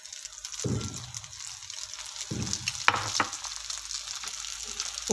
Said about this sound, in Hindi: घी गर्म हो चुका है, इसके ऊपर अब अंडा डाल दिया।